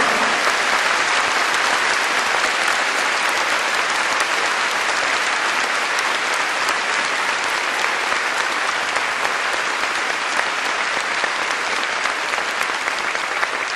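Large audience at a Korean religious memorial ceremony giving loud, sustained applause, a dense continuous roar of many hands clapping at full strength without letup.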